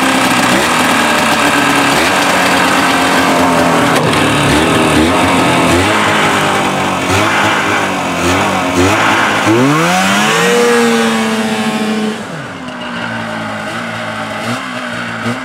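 A vintage 1970s Ski-Doo Everest snowmobile engine runs loud and close, its rough two-stroke note rising and falling as the throttle is blipped, then easing back toward an idle.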